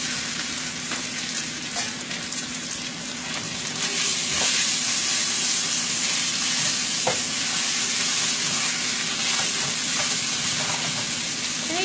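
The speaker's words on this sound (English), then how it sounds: "I'm gonna put the chicken in it, and it's gonna sizzle." Loud, continuous sizzling of chicken frying in hot oil, a dense hiss with crackling pops that swells slightly partway through.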